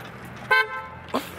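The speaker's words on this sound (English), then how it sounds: "I got honked at." A car horn honks twice in quick succession on a street, two short toots with a brief gap between them, moderately distant over faint traffic background.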